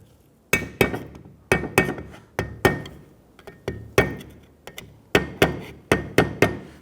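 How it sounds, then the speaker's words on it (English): A screwdriver taps a snap ring into its seat around the perimeter of a front wheel bearing on a 2006-2014 Honda Ridgeline: about fourteen sharp, close metallic clinks, struck singly and in quick pairs with short ringing decays. "Now I want to go ahead and set that snap ring into that, so I'm just going to use my screwdriver."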